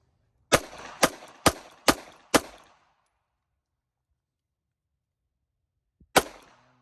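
A Sig Sauer P320 M17 pistol fires five sharp, evenly spaced shots in quick succession, then a single shot follows after a few seconds of silence. Each report is loud and close with a short ringing tail.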